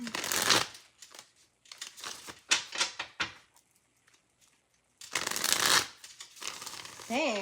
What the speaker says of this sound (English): I had to super shuffle that one.